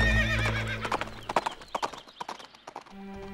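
Horse hooves clip-clop in an uneven, close rhythm after a neigh, a sound effect within a French audiobook of the Rapunzel story, with music tones at the start and end.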